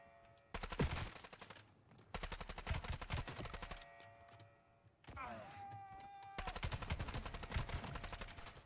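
Voyak assault rifle fire in a video game, several long rapid automatic bursts separated by short pauses, loud and close, with a brief electronic whine between bursts.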